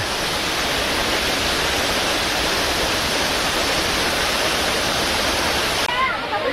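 Bamni Falls in Purulia sends up a loud, steady roar of falling water that fills every moment without a break, heard close at hand and unchanging throughout.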